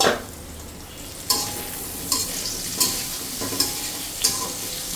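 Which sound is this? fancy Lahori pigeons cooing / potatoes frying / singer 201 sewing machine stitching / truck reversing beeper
potatoes frying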